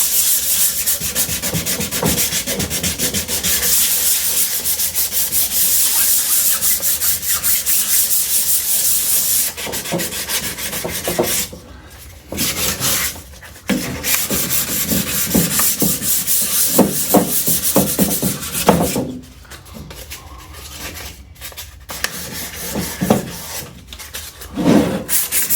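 Fine 400-grit sandpaper rubbing over the edges of a metal toolbox, a steady close scraping swish that runs continuously with brief pauses and restarts, no talking.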